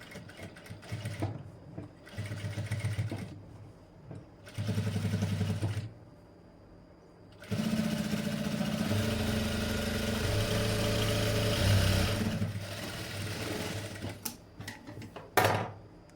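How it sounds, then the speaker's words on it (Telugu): A sewing machine stitching double thread piping, running in several bursts of steady fast whirring and needle chatter, short runs at first and then one long sustained run, close and fairly loud. "మూలల దగ్గర మాత్రం జాగ్రత్తగా స్టిచ్ వేసేసుకోండి."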